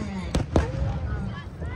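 New Year fireworks bursting over Pattaya, two sharp bangs close together near the start followed by a steady crackling wash and crowd murmur.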